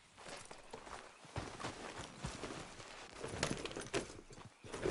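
Horse hooves clip-clopping at a walk in Red Dead Redemption 2, an uneven close rhythm of thuds with a brief snort or whinny, no talk over it.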